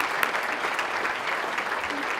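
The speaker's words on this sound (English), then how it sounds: "So I want to give a round of applause to Kristi and her team" An audience at a county state-of-the-county presentation applauds in a steady, moderately soft round of many hands clapping, heard from a distance in a large room.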